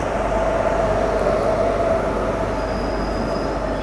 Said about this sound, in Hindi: पुणे के समय में EMU प्लेटफॉर्म पर आ रही है। ये लोकल कल्याण तक सभी स्थानकों पर रुकेगी।